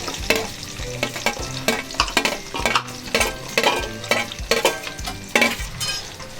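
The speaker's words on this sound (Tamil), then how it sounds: "வெங்காயம் ஃபுல்லாக வதக்கணும்னு அவசியம் தான்" Onions sautéing with chilli in a pan for honey chicken crackle and sizzle loudly up close, while a spatula scrapes and clanks against the pan in a quick, steady rhythm.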